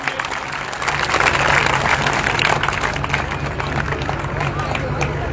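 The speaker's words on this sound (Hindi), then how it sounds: "जोरदार तालियों से उनका स्वागत करेंगे।" Sustained applause from a large outdoor crowd at a farmers' mahapanchayat rally in Mewat, Haryana, welcoming a farmer leader; dense, steady clapping with crowd murmur fills the whole stretch, with a low steady hum from the PA system underneath.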